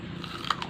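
A single close, crisp bite into chicken, with a sharp crunch midway and a second fainter crackle just after, brief and quiet with no talking.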